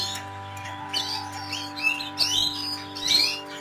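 Small tits chirp inside an aviary with quick, high tweets in short bursts, fairly close, over a steady low mechanical hum.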